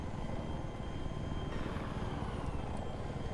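An attack helicopter in Battlefield 3 thrums with a steady, dense rotor and engine roar, close and continuous with no voices.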